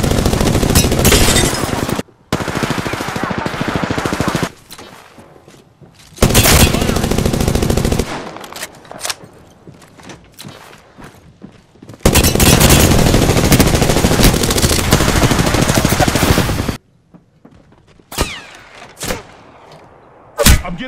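Apex Legends gunfire rattles in loud, dense automatic bursts several seconds long, broken by short silences and a few isolated single shots near the end.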